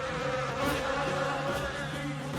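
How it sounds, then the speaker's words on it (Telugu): Bees swarm from a beehive struck by a stone, making a close, continuous droning buzz that stays steady throughout. "ఈ తేనెటీగలు మరీ అంత చెడ్డవేం కాదు గురుమాతని ఇబ్బంది పెట్టడానికి"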